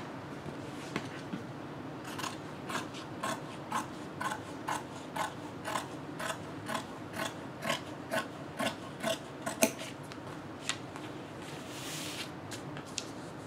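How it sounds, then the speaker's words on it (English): Fabric scissors slice through fabric for a scrub cap in a steady series of short, crisp snips, evenly spaced about every half second, quiet and close with no talking. "I'm going to go ahead and cut this out with my fabric scissors."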